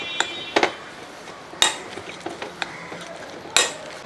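Beef dry fry with torn curry leaves is stirred in a pan, marked by scattered sharp metallic clinks and taps of a spoon against the pan, irregular and close, over a quiet background.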